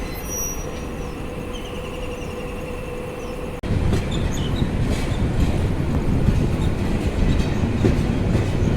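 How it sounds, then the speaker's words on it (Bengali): A Parabat Express train departs Dhaka Cantonment railway station: a steady low rumble gives way midway to a louder, fuller rolling roar of carriages and wheels with faint squeals, close by and with no talking. "দশ মিনিট আমাদের বসিয়ে রেখে ট্রেন মাত্র ছেড়ে গেল ঢাকা ক্যান্টনমেন্ট রেলওয়ে স্টেশন"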